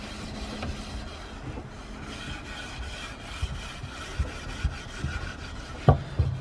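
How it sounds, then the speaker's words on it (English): A garden tool is scrubbed down to bare steel with coarse wire wool in steady, raspy rubbing strokes, close and moderately loud, with a few knocks near the end. "If you use the coarse wire wool, it does a lot quicker job."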